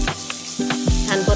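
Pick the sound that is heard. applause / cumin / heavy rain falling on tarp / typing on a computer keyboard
cumin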